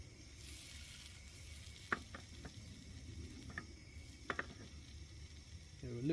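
Fish, carp, frying in a pan, heard as a steady soft sizzle with occasional sharp pops and crackles, close but fairly quiet, with no talking.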